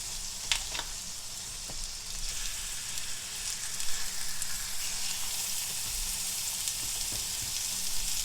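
Boneless center cut pork loin chops frying in a skillet, a steady close hiss and sizzle with occasional small pops and crackles, continuous and without talk.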